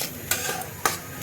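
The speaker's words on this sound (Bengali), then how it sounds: "নেড়ে নিচ্ছি" A spoon scrapes around a pot of Gobindo khichuri, two brief clatters standing out at close range over a steady low kitchen hiss, with no talking.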